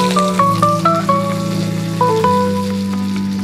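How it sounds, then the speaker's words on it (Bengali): Chopped onion hits hot oil already fragrant with bay leaf, dried red chillies and nigella seeds, giving a steady, close sizzle with crackles, partly masked by background music. "দিয়ে দেবো কুচানো পেঁয়াজ।"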